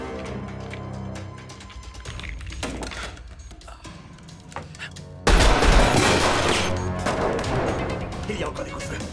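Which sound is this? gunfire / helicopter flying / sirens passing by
gunfire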